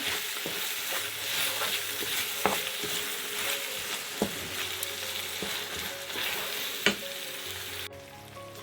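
Chicken doner mixture frying in a pan is stirred, giving a steady close sizzle broken by occasional spatula taps and scrapes, with no talking.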